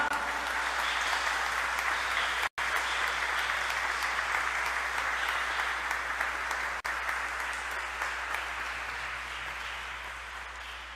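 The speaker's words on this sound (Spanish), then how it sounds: "que le ofrezcamos como gran devoción un fuerte y caluroso aplauso a esta sagrada y bendita imagen." A congregation at a Mass for the Señor de los Milagros applauds a sacred image, dense sustained clapping that fills the church for about eleven seconds with two brief dropouts, slowly fading near the end.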